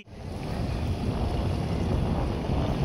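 Boat out on open water: a steady, broad rushing hiss of motor, wind and water that rises in the first moment and then holds even and fairly loud, with wind buffeting the microphone and no talk.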